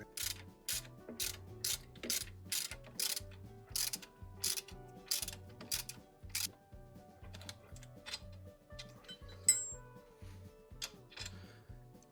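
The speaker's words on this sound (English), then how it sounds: "you counter hold the other side with a 16mm spanner or socket, whichever you prefer" A ratchet tightens a pinch bolt with a 16 mm socket on a Citroën Picasso suspension, giving a close, steady series of rapid clicking strokes in a regular rhythm that thin out toward the end.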